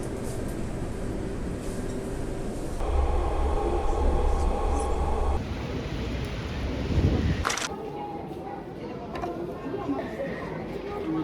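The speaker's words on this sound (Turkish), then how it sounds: "Bu metroya ilk defa bineceğim" Inside a moving metro train in Turkey: a heavy rumble and roar, a rush of braking, and people chattering faintly in the background.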